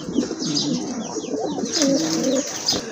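Pigeons coo in soft, rolling phrases close by, with faint chirps and brief rustling in the background.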